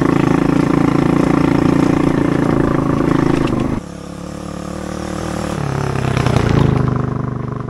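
A Loncin 110/125 motorcycle engine runs loudly and close by, a steady chugging drone that drops abruptly partway through and then swells again toward the end.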